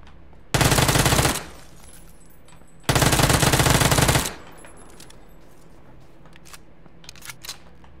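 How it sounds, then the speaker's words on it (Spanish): Two long, loud bursts of automatic gunfire, each lasting over a second, ring out in PUBG on the snowy Vikendi map, followed by quieter background game sounds. "Voy a seguir disparando."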